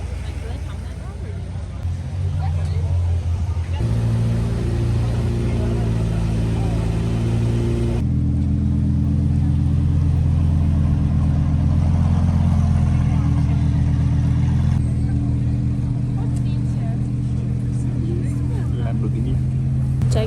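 Cars driving and revving through the streets of Monte Carlo, a steady loud engine drone with shifting tones as vehicles accelerate and pass, voices talking underneath throughout.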